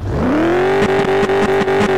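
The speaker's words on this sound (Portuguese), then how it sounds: "Você tá maluco, mano, a combosta ligou" An abandoned SAMU ambulance Volkswagen Kombi engine catches and keeps running, its note climbing briefly and then settling into a steady, loud idle with light rhythmic ticking. No one speaks.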